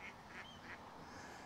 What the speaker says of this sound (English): some rather noisy ducks